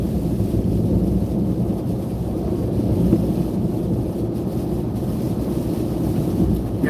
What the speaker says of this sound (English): Got caught in the rain. Had to get up out of there.